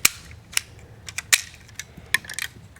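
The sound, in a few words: custom Lego Space Police fast-firing missile mechanism firing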